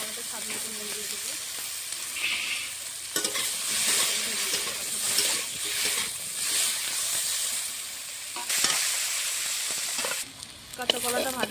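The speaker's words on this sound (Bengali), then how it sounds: "এখন কাঁচা কলাটা ভেজে নেব।" Raw green banana fries in mustard oil, sizzling steadily in a pan. A spatula stirs and scrapes it in repeated bursts, and a few louder surges of hissing break through close by.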